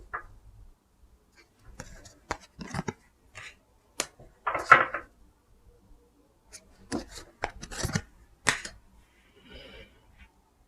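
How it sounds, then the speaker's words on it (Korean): Tarot cards being shuffled and drawn, with intermittent soft rubbing, flicking and slapping bursts of card handling, close and quiet, separated by near silence. "이동하는 모습에 대해서 좀 카드 뽑아볼게요"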